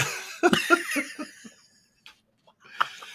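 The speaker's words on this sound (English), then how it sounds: "I have to fill my mouth and cough." A few short coughs up close, followed by quiet breathy sounds and another small cough near the end.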